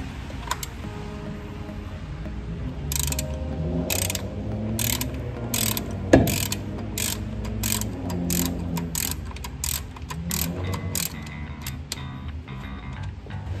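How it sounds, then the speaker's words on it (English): A ratchet clicks steadily as it works a nut off the end of a shaft in a classic Ford Mustang transmission. The rapid ticking comes in bursts over a low mechanical hum, close and fairly loud, with a brief metallic clank partway through. "we'll go ahead and remove the nut on the end of the shaft here"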